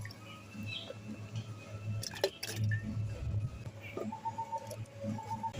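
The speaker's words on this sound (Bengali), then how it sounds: "আমগুলো জলের মধ্যে দিয়ে দেব।" Raw mangoes drop into water with a few soft, quiet plops and splashes clustered in the middle, over a low kitchen hum.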